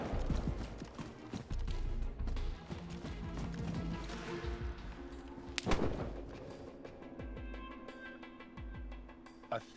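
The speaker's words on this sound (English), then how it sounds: "I think number 2 just shot at the first guy." Gunfire in DayZ on the snowy Namalsk map, sharp distant reports scattered among rapid clattering, thumping footsteps, with one stronger crack standing out midway through the busy, fairly faint scene.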